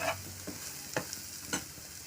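Spiny gourd (kartoli) tossed into hot oil spiced with turmeric, asafoetida and masala, stirred over low gas: a steady close sizzle broken by three sharp spatula scrapes at even intervals, no voices.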